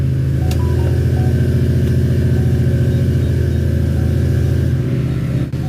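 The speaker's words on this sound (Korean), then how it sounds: "시동 걸어보자. 난 이 차 소리가 참 좋아." A restored Ford Mustang of nearly 500 horsepower idles steadily after starting, a loud, close, even rumble with a regular pulsing beat that cuts off at the end.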